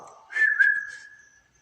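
A single short whistled phrase, a few quick rising notes blending into one held tone, clear and close with no other sound.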